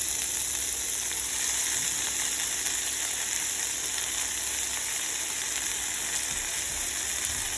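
Chopped fenugreek leaves frying with garlic cloves in a pan, giving a constant even hiss of sizzling oil close by, with no talk and no breaks.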